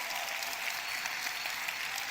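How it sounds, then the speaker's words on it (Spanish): A church congregation applauds steadily, a dense, even patter of many hands held at a moderate, somewhat distant level throughout. "dale un aplauso más fuerte al Señor"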